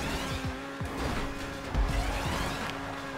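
A Ferrari SF90 Spider in GTA V spins its wheels and slides sideways, a steady engine drone under repeated squealing skids that rise and fall over a few seconds.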